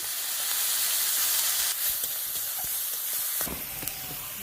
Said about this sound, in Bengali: ফোড়নে দিয়ে দেবো শুকনো লঙ্কা, তেজপাতা আর কেটে রাখা পেঁয়াজ। ভেজে নেব।